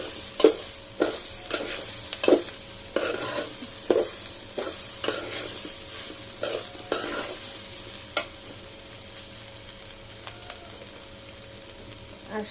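Khichuri with lentils being stirred in a pot, a soft bubbling sizzle under repeated scraping strokes of the spoon, regular at first and then sparser, close by.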